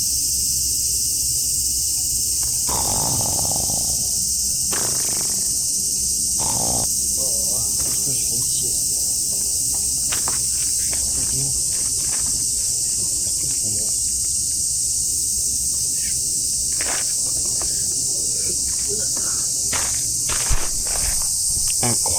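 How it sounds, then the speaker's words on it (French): Cicadas in Japan, near Kobe, buzz in a loud, steady high drone that runs the whole time, with a few faint footsteps and small bumps underneath. "Il y a des cigales d'ailleurs, si vous n'aviez pas entendu depuis le début du vlog"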